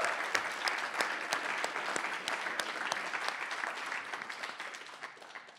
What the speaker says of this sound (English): round of applause for Hanok, I guess